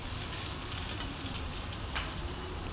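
Mixed vegetables simmering in a tomato and onion gravy in a pan, a steady close sizzle and bubbling that stays even throughout, with no talking.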